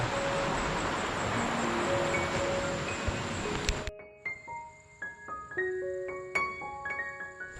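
Broad rushing wind noise from strong wind in a rural province buffets for several seconds, then cuts off abruptly, leaving scattered faint tones and quieter background.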